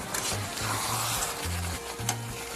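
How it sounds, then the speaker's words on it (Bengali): Bengali chicken kosha sizzles in a pan while being stirred, a continuous frying hiss with rhythmic scraping strokes of a spoon, close and moderately quiet. "এবার আমরা এটাকে ভালো করে নাড়বো নেড়ে চেড়ে ভালো করে কষাবো"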